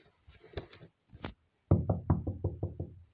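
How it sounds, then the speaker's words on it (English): Knocking on a house door while trick-or-treating on Halloween: a short burst of roughly eight firm, evenly spaced raps, close and loud, preceded by a few quieter sounds. "Knock, knock."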